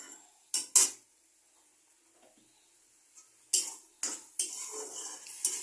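A metal spatula scrapes and clanks against a pan while cabbage with onion and garlic is stirred and dried out, giving sharp, irregular knocks separated by quiet stretches and a light sizzle.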